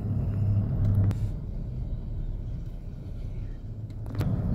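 City work truck driving through residential neighborhood streets near Oakland Beach and a seawall in Warwick, a steady low engine rumble and road noise heard from inside or close by, with no talk.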